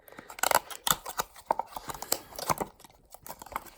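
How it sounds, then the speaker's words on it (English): Sealed plastic packaging around a Tomica Suzuki Jimny 1:64 diecast model being opened by hand, close crinkles, snips and tearing in short irregular bursts with brief pauses, no talking. "Let's remove the sealed pack."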